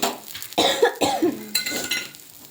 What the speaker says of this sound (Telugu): పోపు పెట్టిన ప్రతిసారి ఇలాగా దగ్గు కామన్ అయిపోయింది